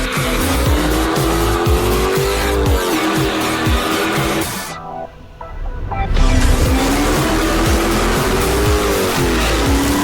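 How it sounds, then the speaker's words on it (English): A junkyard-bought Dodge Hellcat doing a burnout, its engine roaring loud and close with sustained tire squeal and skidding, briefly dropping off for about a second midway before the revving and squealing resume at full force. "He's driving like he's doing burnout."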